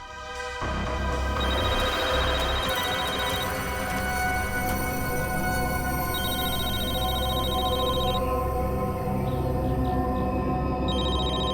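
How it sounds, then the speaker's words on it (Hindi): A mobile phone rings in repeated bright bursts over steady dramatic background music in a crime-drama scene, with no voices. "फोन रिंग हो रहा है।"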